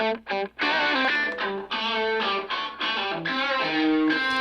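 A distorted electric guitar through an amp rings out in choppy played phrases, with a simulated live room reverb adding ambient space and short reflections around each note, loud and alone.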